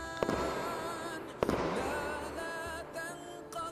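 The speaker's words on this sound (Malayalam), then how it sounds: "നോമ്പുതുറ സമയം അറിയിക്കാൻ ആദ്യം രണ്ട് മൂന്ന് കതിനകൾ പൊട്ടിക്കും" Two sharp ceremonial firecracker bangs announcing iftar at Delhi's Jama Masjid go off, one early and one a moment later, over a faint background murmur of a crowd.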